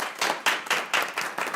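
A small audience at a regular board meeting claps in uneven bursts, with about six distinct surges of hand claps over a moment, moderately loud and close, with no talking.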